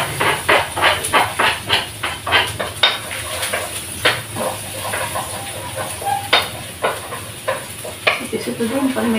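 Garlic sizzles and hisses in hot oil in a pan, with a steady crackle broken by rhythmic bursts of stirring and scraping against the metal.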